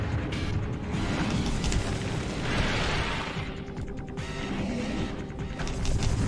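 Morph Ball bombs detonate in Metroid Prime during a fight with a Sheegoth, heard as dull booming blasts over a dense, continuous game soundscape of rumbling music and effects.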